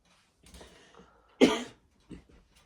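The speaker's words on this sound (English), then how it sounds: "Cough break." A person coughs indoors: a few faint throat sounds lead into one sharp, louder cough, followed by a softer short cough, all close and quiet.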